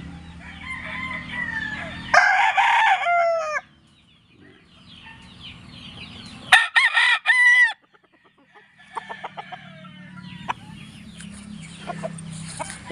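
Several gamefowl roosters, pure Joe Black stock, crow loudly in a cording area, with overlapping calls in bursts and some clucking, separated by quieter gaps.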